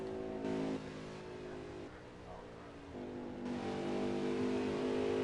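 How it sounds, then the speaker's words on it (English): A race truck engine roars at full throttle, recorded on board, holding a loud, steady drone with small shifts in pitch as the throttle stays pinned. "Listen to how much throttle he's actually putting into that truck."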